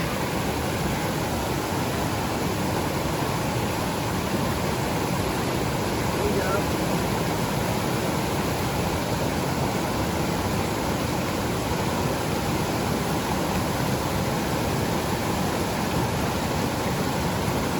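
Stream water at a trail crossing on the Pacific Crest Trail rushes in a steady, loud, unbroken wash of noise throughout, with no talk audible over it.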